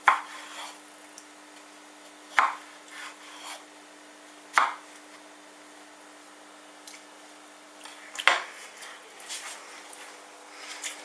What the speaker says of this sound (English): Good, just chop it.